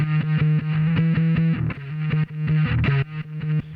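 A distorted bass line pumps rhythmically, ducking in volume with each kick beat so the sustained notes pulse in a steady pattern.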